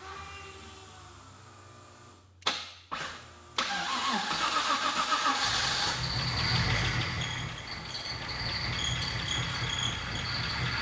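Car engine started for the first time: two short cranking bursts, then it fires up and settles into a loud, rattly idle that carries on steadily.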